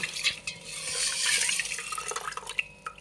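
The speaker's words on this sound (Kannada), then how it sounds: "ಚೆನ್ನಾಗಿ ತೊಳೆದು ಕುಕ್ಕರಿಗೆ ಹಾಕಿ ಬೇಯಲು ಇಡಬೇಕು" Water splashing and trickling as moong dal and toor dal are rinsed in a vessel, a close, steady wash of liquid with small drips and a few sharper splashes toward the end.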